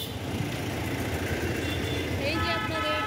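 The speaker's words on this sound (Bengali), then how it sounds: "এই যে আপনাদের ভাইয়া গাড়িটা চালিয়ে যাচ্ছে" A car driving through rainy Dhaka city streets, with a steady broadband road and rain wash throughout and faint tonal traffic sounds near the end, while a voice talks over it.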